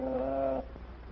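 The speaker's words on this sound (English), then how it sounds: "I heard her crow." A chicken sound effect from an old radio drama: one short, tonal, clucking call lasting about half a second, fairly close and clear, then a quiet room-tone tail.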